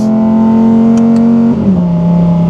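A 2023 Audi R8 GT engine at light throttle gives a loud, steady droning tone up close. Partway through, the pitch drops slightly and settles lower.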